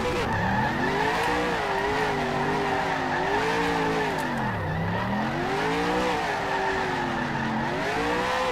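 A race car in a video game doing a burnout after an IROC-style race at a USA International circuit: loud, sustained engine roar swooping up and down in pitch with tire squeal throughout, close and continuous.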